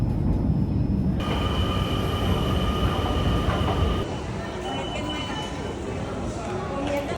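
A Dutch passenger train heading toward Zaandam rumbles along steadily from inside the carriage, with a faint whine running over the rolling noise, and a drop in roar partway through as the ride continues.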